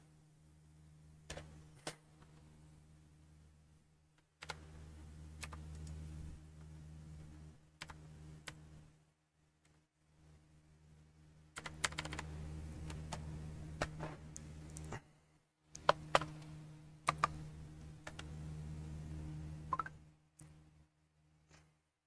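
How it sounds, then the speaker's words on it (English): Plastic clicks and ticks of a computer keyboard being plugged in and handled, scattered taps in bursts over a steady low hum, fairly quiet and close, with no talk. "I was plugging in my keyboard."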